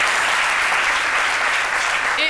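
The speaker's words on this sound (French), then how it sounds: "je vous demande d'applaudir, la maquilleuse" A television studio audience on a midday show applauds the make-up artist, a loud, dense, continuous wall of clapping that holds steady for the whole stretch.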